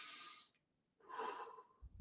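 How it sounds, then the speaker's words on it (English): Two slow, deep breaths close to the listener, an airy exhale followed by a short pause and a fuller inhale, with no talking. "Deep breathing."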